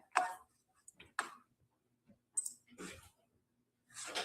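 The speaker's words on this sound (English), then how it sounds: "Let me just make sure that these dogs stop barking." Dogs bark in the background at home, a handful of short, scattered barks, faint and distant, separated by quiet gaps.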